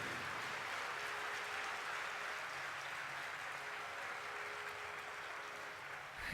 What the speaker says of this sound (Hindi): एक बार जोरदार ताली बजाइए जैन मुनि लोकेश जी के लिए